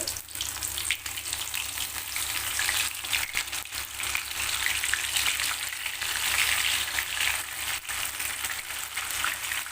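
Soya chunks fry in hot oil for soya chilli chicken, giving a steady, loud, close sizzle and crackle that never lets up, with no voices over it.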